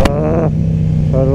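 Kawasaki Ninja motorcycle engine at a 2024 moto season opening in Kremenchuk, rising in a brief rev then settling to a steady idle before climbing again, loud and close.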